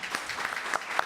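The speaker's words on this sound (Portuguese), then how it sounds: "Eu quero aplaudir vocês." Audience applause at a public hearing marking Social Worker Day, a steady patter of clapping through the whole short moment with a few sharper claps standing out, no voices.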